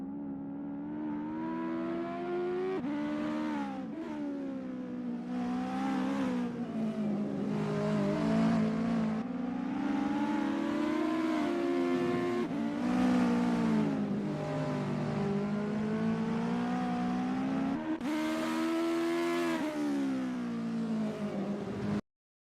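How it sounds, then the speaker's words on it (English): US Legend race cars warm up at the Ahvenisto circuit, their engines droning continuously and rising and falling in pitch through repeated gear changes and acceleration, close and steady throughout. "A lovely day for racing here at Ahvenisto as we watch these drivers warm up and get ready for the race."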